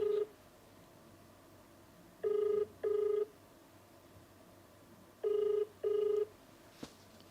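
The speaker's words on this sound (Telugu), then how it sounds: "రింగ్ అవుతుంది." Ringback tone of an outgoing phone call: two pairs of short electronic double rings separated by quiet gaps, clean and moderately loud over faint line hiss, with no voices.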